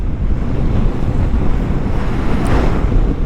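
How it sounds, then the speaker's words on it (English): Loud, constant wind buffeting the microphone on a 2023 Kawasaki Vulcan S 650 Cafe motorcycle on the highway, a heavy low roar that rushes without pause throughout. "It's pretty windy here today"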